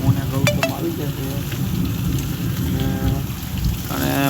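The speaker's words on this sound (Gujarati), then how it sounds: "ખિલ્લાવડમાં વરસાદ ચાલુ થઈ ગયો છે" Steady rain falls in a village setting, a continuous close hiss filling the whole stretch with no speech over it.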